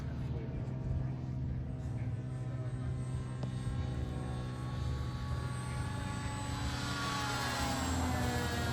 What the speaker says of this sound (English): But I will do a flyby and make sure all the gear's down.